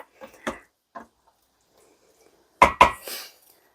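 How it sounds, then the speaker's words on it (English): A spoon scrapes and knocks inside an Instant Pot of lamb stew, a few light clinks early on and then two sharp metallic clacks followed by a brief scrape, close and fairly quiet with silence between. "I'm going to give this a stir."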